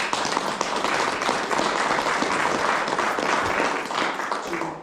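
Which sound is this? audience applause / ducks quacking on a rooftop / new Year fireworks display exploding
audience applause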